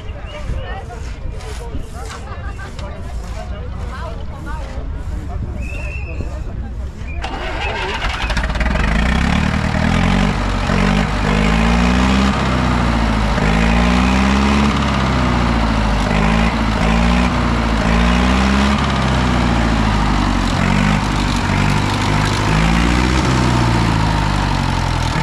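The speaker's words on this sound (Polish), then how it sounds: "Zetor odpalił." A Zetor tractor at a vintage vehicle show cranks over with rapid starter clatter, then its engine catches and settles into a loud, steady, throbbing idle for the remaining stretch, up close.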